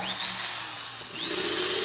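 A power drill runs continuously in hammer mode, its motor whining high with a shift in pitch partway through, loud and close.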